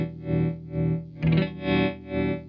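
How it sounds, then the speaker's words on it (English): An electric guitar runs through a Red Witch Pentavocal tremolo pedal with its bottom control turned fully clockwise, the sustained distorted chord swelling and fading in a steady rhythmic pulse, about five throbs, close and alone. "If you listen to the sound here, with the bottom control fully clockwise, you can hear all the frequencies are being pulled out and brought back in"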